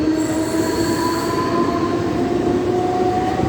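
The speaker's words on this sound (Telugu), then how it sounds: "డాక్యార్డ్ రోడ్ స్టేషన్కి చేరుకుంది ట్రైన్" A Mumbai local train pulls into Dockyard Road station, its wheels squealing in long steady tones over a loud, continuous rail rumble, with no talk.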